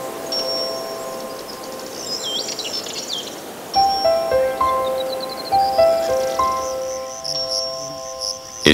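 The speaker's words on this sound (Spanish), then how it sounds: "los ruidosos grillos que sin descanso frotan sus alas para atraer a las hembras" Crickets at ground level among plants chirp steadily in the background, mixed with high bird calls and tonal chirps, fairly close and moderately loud with no talking.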